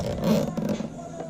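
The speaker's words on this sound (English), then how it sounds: "Zip tie it up right here." A zip tie ratchets tight on a 2003–2004 Kawasaki 636 stunt bike during a clean air mod, a short close zipping rasp.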